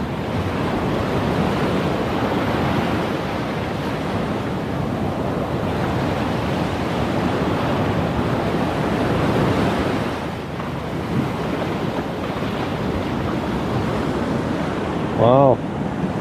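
Sea waves at Long Bay, Jamaica, a loud continuous roar of surf washing against a seaside wall, with heavy wind buffeting the microphone throughout.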